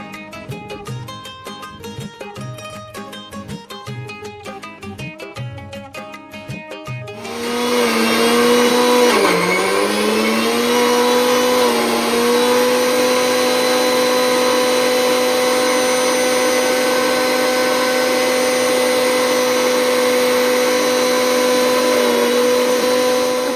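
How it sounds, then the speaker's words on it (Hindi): A mixer grinder grinds soaked, drained soybeans, starting after a stretch of rhythmic clattering and then settling into a loud, steady, close whine with a slight dip in pitch as the load catches. "मिक्सी में फटाफट से पीस कर तैयार होती जा रही है"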